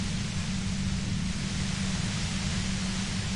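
A steady hiss of white noise from Disco Elysium runs unchanged for a few seconds, broadband and fairly loud, with a heavier low-end rumble beneath it and no talk.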